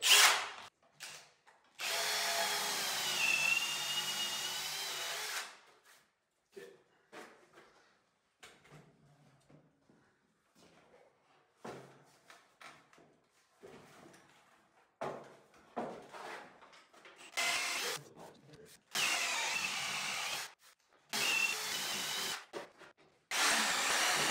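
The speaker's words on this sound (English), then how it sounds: "to drill holes through all these for our threaded rod to go to" A power drill boring holes through large logs for threaded rod in a silo staircase build, with long loud whining bursts that start and stop, broken by quieter handling knocks and wood rubbing between runs.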